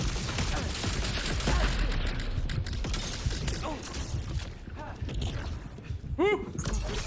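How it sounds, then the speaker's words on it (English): Rapid, crackling weapon fire from spore shots in the shooter game Concord, busy bursts and mechanical clicks layered throughout, with a few whooshing tonal effects and occasional talk over the top. "I am kind of just shooting these spores into the room because I know they'll seek"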